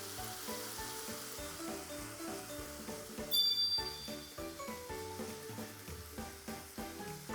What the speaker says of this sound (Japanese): ここで生クリーム入れて詰めていきます。